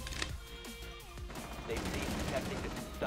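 Gunfire in the tactical shooter Rainbow Six Siege, including a Valkyrie suppressed weapon: dense bursts of rapid shots mixed with game effects, continuous and busy throughout, with a voice talking over it.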